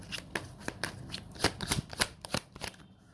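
Tarot cards being shuffled in a reading, a close run of soft riffling snaps and slaps in irregular bursts, fairly quiet with no talk over them.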